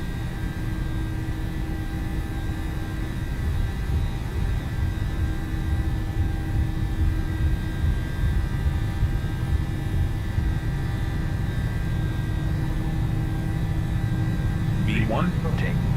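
PMDG 737 jet engines at takeoff thrust in the MSFS 2020 flight simulator: a steady, loud, broad roar holding level throughout, with a brief rising whine near the end.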